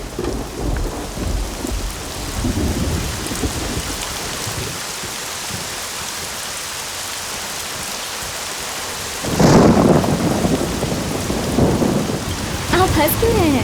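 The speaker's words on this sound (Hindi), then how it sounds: "लेकिन बारिश आ गई।" Steady heavy rain pours through a thunderstorm, with low rumbling thunder building early on and a louder, closer crack and roll of thunder bursting in near the end.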